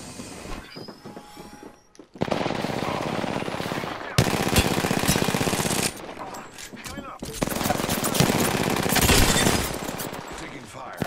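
Automatic gunfire rattles through an Apex Legends battle in loud sustained bursts broken by short pauses, harsh and close throughout.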